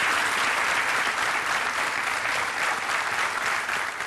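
A studio audience on the quiz show KBC claps to welcome contestant Beena Paresh Dave, a full, even wall of applause that runs unbroken from start to finish.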